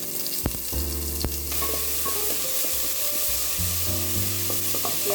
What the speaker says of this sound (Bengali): পেঁয়াজ এবং রসুন বাটাটা তেলের মধ্যে একটু ভাজতে হবে।